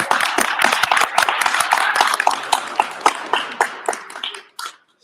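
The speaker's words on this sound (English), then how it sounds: "We give her a round of applause." A live podcast audience claps in a round of applause, dense and fairly close at first, then thinning into scattered individual claps before fading out.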